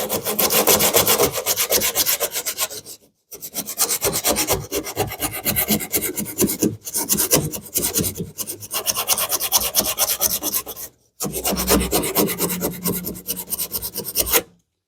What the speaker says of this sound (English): all I'm going to do is just sand stuff off until everything feels smooth